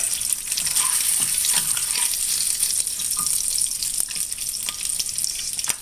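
Andouille sausages fry steadily in a pan, a constant crackling sizzle with scattered pops and soft clinks running the whole time, close and fairly loud with no voices.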